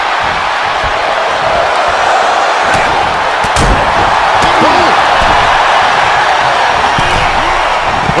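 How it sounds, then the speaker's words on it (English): A wrestling arena crowd during a battle royal roars in a loud, continuous wall of noise, punctuated by sharp slams and thuds from the ring, with a commentator talking over it. "The sound of this crowd is deafening"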